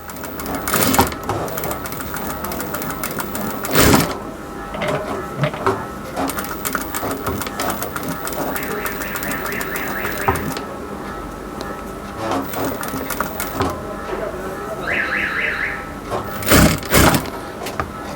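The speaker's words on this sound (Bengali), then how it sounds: "কুচিটা যখন কুচিটা দিবেন তখন একটু মেশিনটা আস্তে আস্তে চালাবেন যাতে কুচিটা সমান সমান এভাবে বসে" A sewing machine stitches pleats into a puff sleeve, running in stretches of rapid mechanical whirring with pauses and sharp clicks, while someone talks over it.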